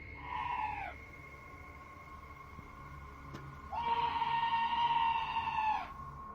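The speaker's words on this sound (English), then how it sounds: "this scream sounds like chills made audible" Two long, eerie high-pitched screams with a wavering, harmonic tone, the first short and the second sustained for about two seconds, heard outdoors outside a trailer door with a low background hum.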